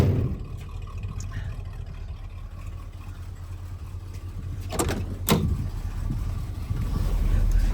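A 1957 Plymouth Fury engine runs at a steady idle nearby, a low continuous rumble with a couple of sharp knocks partway through and a slight rise in level toward the end.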